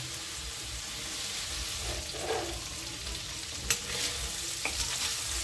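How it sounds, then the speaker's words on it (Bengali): Prawns frying in a pan for a bottle gourd and tamarind prawn curry, a steady soft sizzle with faint stirring scrapes and a couple of sharper clicks near the end, fairly quiet throughout. "চিংড়ি মাছের দুটো সাইডই খুব ভালোভাবে ভাজা হয়ে গেছে।"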